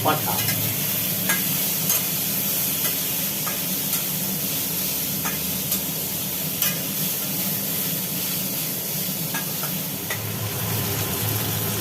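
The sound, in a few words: meat and tomato frying in a pan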